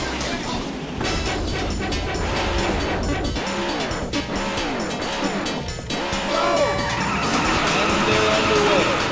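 Race car engines rev loudly at the start of a Daytona USA arcade race, with swooping rises and falls in pitch and a dense roar of tires and motors throughout.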